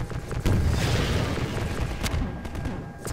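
A rocket blast booms against a Strider in Half-Life 2, a loud rumbling burst that swells early and then fades, with a few sharp cracks after it.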